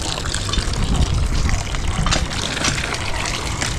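Water running steadily and splashing, a broad continuous wash at close range, likely from a tap or hose during laundry by a well, with no voices over it.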